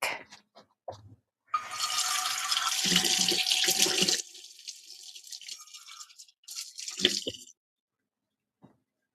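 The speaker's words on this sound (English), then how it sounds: "let me rinse these real quick." Kitchen tap water runs as something is rinsed underneath, a loud rushing stream for a few seconds that stops abruptly, then softer splashes, drips and handling sounds before falling quiet.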